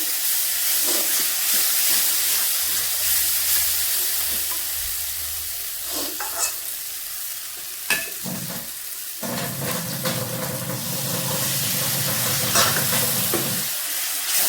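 Onion, ginger and garlic masala sautés in a pan, a close sizzle with scraping stirs and clacks of the spoon, then a louder burst of bubbling hiss toward the end.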